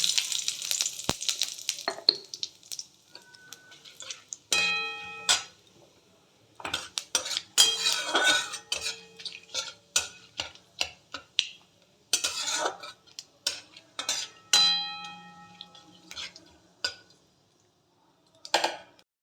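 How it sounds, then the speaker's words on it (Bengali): Cumin, bay leaf and dried chilli hit hot oil in bursts of crackling sizzle, mixed with sharp clinks of a metal spoon against the pan, close and intermittent, with brief pauses between bursts. "এখানে ফোড়ন দিয়ে দিচ্ছি জিরে তেজপাতা শুকনো লঙ্কা"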